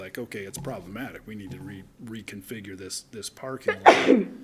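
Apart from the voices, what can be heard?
sneeze during the meeting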